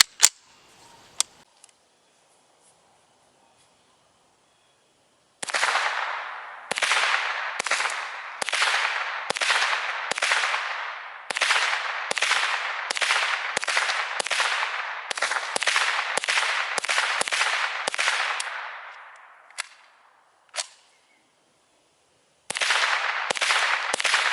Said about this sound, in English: Up first is 25 rounds of Supers unsuppressed on my Ruger 1022.